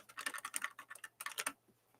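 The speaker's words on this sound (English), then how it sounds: "It's a Kindle with a keyboard, and it sounds real nice." Rapid clicking keystrokes on a Hemingwrite, a Kindle-like writing device with a mechanical keyboard, typed in quick uneven bursts close by, then a pause near the end.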